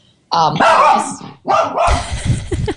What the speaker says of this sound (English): Oh, that's my dog Boomer saying hello.